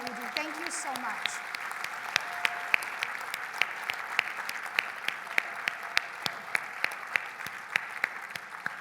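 A gala audience applauds the mobile pack hosts with steady clapping and crisp individual claps standing out, as a voice briefly speaks near the start.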